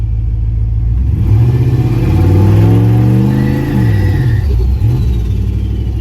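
A turbocharged LS-swapped Caravan engine held on the trans brake, revving hard and loud with rising and falling pitch sweeps, a strained, uneven roar that bogs near the end.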